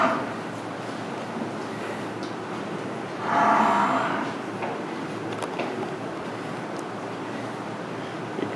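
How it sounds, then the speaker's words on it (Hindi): Home-bred buffalo and calves on a dairy cattle farm near Fateh Jang Road, Attock, low mooing with one louder nearer call midway, over steady wind noise outdoors. "भैंसा जी कट्टे कट्टियाँ जी होम ब्रीड जी"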